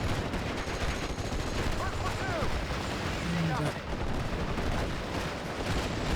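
Mortar and artillery fire in the World War II game Steel Division Normandy 44 sounds as steady, dense rumbling battle noise with scattered shots and distant booms. Voices talk over the top.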